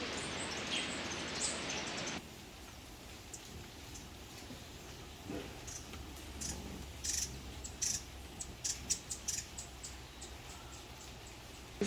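Birdsong in an Ecuadorian cloud forest: scattered high chirps and tweets, some close and bright, over a soft steady background hiss, with a louder rustling passage at the start.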